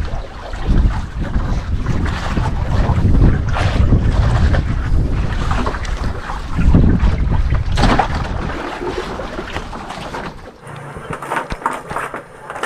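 A large dive boat's motor drones steadily under heavy wind buffeting, loud and close, easing off near the end.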